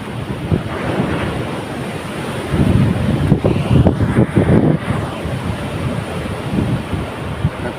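Large ocean waves pounding the shore at Baler, Aurora during a typhoon, a steady roar of surf with heavier crashing surges midway, mixed with gusty wind buffeting the microphone.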